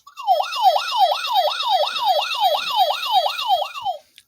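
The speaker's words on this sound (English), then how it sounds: "All that sound just made me think of an emergency vehicle." A wailing electronic siren from a handheld sound effects machine cycles rapidly up and down about a dozen times in a steady whoop, loud and close, then cuts off.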